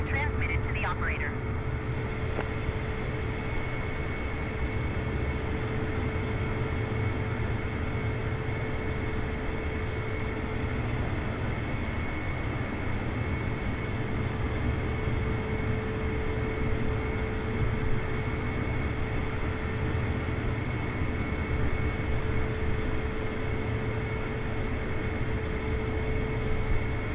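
An airliner sits on the ground during pushback by a tug in a flight simulator, giving a constant loud low drone and hiss that runs unbroken throughout, with faint voices underneath.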